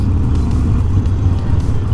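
Steady city road traffic at an intersection, heard from a Harley Davidson motorcycle, rumbles loud and close as a dense low engine roar with passing cars.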